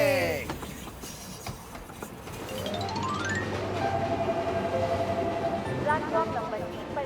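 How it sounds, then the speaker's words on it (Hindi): A cartoon train rolls along with a steady rumbling chug and rising whistle-like tones, building after an opening swoosh and continuing under animated voices talking. "ये रेल डरावनी है।"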